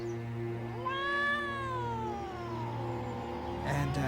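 A single drawn-out, rising and falling cat-like yowl from a child in a horror movie, loud and close, like a scream imitating a cat, over a low steady hum.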